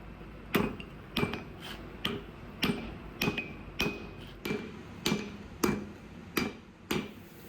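Steel cable being forged into Damascus, a hammer striking hot metal in a steady rhythm of about eleven sharp ringing blows, evenly spaced and fairly close, with no voices.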